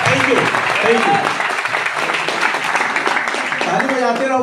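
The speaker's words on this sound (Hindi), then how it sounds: "ताली बजाते रहो भाई एक बार जोर से।" Loud seminar audience applause in Bilaspur, Chhattisgarh, a thick continuous clatter of many hands with voices calling out over it.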